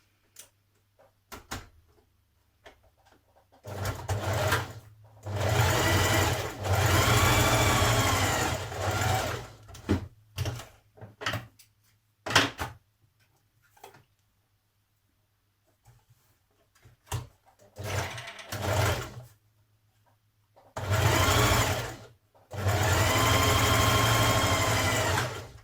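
A sewing machine stitches the shoulder seam of a blouse in several bursts of rapid whirring, some long and steady, others short stop-start runs, separated by quiet gaps and small clicks of handling the fabric.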